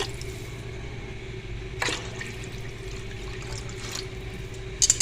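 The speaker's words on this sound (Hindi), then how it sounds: "अब पानी हमने इसमें इतना ऐड करना है कि हमारी जो दाल है ये इजीली गल जाए" Water poured into a pot of soaked lentils for cooking daal, a steady low rushing fill with a brief splash partway through, close and alone.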